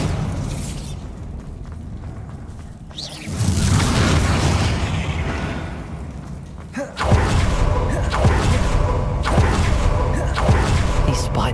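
Bombarda spell blasts in Hogwarts Legacy land as two heavy booming impacts, each followed by a rumbling crash and debris, loud and close, amid ongoing combat noise; a voice calls out spells.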